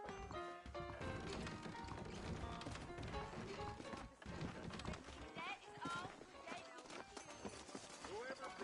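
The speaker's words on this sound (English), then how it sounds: "I got the horses saddled up and ready out front." Saddled horses in Red Dead Redemption trot along with a rhythmic clip-clop of hooves and an occasional whinny, mixed with game sounds while people talk over them.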